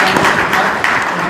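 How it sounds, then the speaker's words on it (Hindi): An audience at a Khatik community event for a library serving poor children claps in welcome. The applause is brief, loud and dense, with a voice partly over it. "इसमें एक बार सब जोर से तालियां से स्वागत करेंगे सब।"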